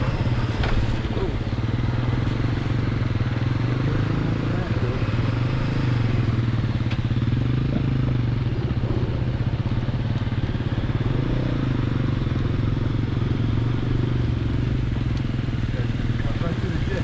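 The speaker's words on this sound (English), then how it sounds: "There you go, motorcycle." A motorcycle runs on the rough Black Bear Pass trail, a steady low engine drone with clatter, heard from inside a vehicle while people talk over it.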